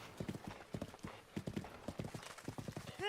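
A horse gallops in a Zelda video game, with quick rhythmic hoofbeats and a brief whinny at the end, moderately quiet, with no talk.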